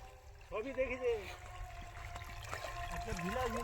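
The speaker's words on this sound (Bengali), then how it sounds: "কিভাবে আলু জমিতে জল দেয়া হচ্ছে" Water running into a potato field for irrigation, a soft, faint trickle and gurgle heard beneath people talking nearby.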